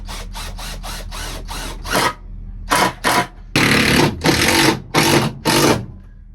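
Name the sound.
power drill driving screws into workbench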